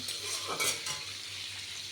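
Potatoes frying in a pan while a metal spatula stirs and scrapes them, a continuous sizzle with a brief louder scrape in the middle, heard up close.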